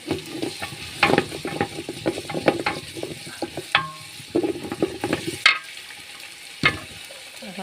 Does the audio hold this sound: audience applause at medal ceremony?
no